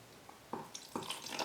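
Water poured into a soap container to dilute it, a soft trickle that builds into splashing, fairly quiet and heard alone.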